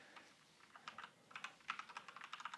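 Quiet, close typing on a computer keyboard, a short burst of quick, irregular keystrokes that speeds up toward the end, with no talking.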